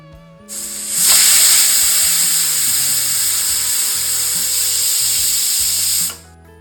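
A pressure cooker vents steam in one loud, sustained high-pitched hiss lasting several seconds, then cuts off abruptly, close by with no talking.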